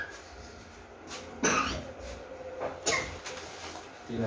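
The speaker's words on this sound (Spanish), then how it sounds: "Tiene tos." Several short coughs ring out at a moderate distance in a quiet room, spaced a second or so apart, with no talking over them.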